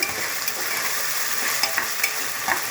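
Spoon stirring pulao ingredients with salt and sugar in a frying pan, a steady close hiss of sizzling with scattered scraping strokes across the full length and no talking.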